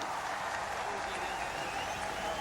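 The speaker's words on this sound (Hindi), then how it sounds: "आप देख रहे हैं तालियों की गड़गड़ाहट के साथ स्वागत सभी खिलाड़ियों का" At a ceremony honouring Olympic athletes, a crowd applauds steadily, a dense wash of clapping heard at a moderate distance as a commentator speaks over it.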